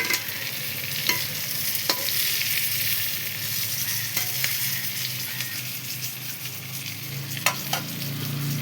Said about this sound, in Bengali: এই যে মশলা কষা হচ্ছে, তেল ছেড়ে দিক একটু